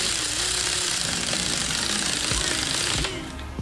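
An impact wrench or power tool rattles steadily, tightening the harmonic balancer bolt on an SRT4 engine, a loud continuous hammering buzz for about three seconds before stopping.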